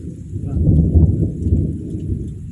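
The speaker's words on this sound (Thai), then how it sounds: "ได้ยินเสียงฟ้าร้องนะครับ" Thunder rumbles low and steady through a rural rainstorm, the deep roll swelling and fading over a soft patter of rain on surfaces, with no voices.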